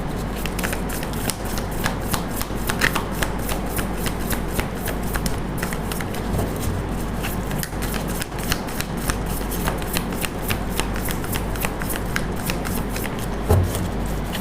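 Tarot cards being shuffled continuously, a steady fast riffle of papery slaps and flicks running throughout at close range with no voices.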